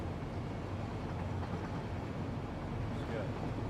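A train in the factory-building video game Satisfactory rumbles along steadily in a low, continuous drone, moderately quiet, with a player talking faintly over it.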